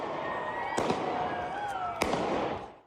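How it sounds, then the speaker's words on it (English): Two sharp handgun shots about a second apart at a downtown street protest, each cracking loudly and echoing over crowd noise and raised voices. "He fired several shots."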